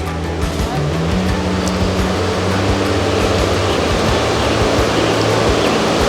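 Teton Creek rushing steadily in the Grand Tetons along a backpacking trail, a loud, continuous broadband roar of fast-moving water close by, with no voices.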